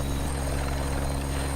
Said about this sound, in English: Now this original helicopter, the AB412, actually dates back to around 2014